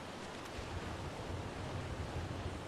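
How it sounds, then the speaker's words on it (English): A waterfall in the game ARK gives a steady, dense rushing roar, continuous and fairly close, with no talk over it. "Always behind a waterfall"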